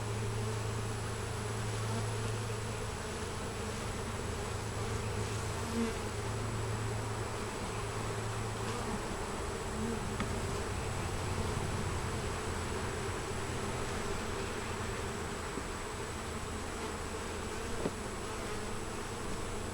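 Honey bees at a queenless hive give a steady, dense buzzing drone that holds evenly for the whole stretch, close and moderately loud with no talking.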